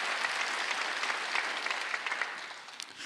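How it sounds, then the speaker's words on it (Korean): Members of a Korean church congregation applaud during a Sunday worship sermon, a soft, fairly distant patter of many hands that thins out slightly toward the end, with no voices over it. "박수 하시오"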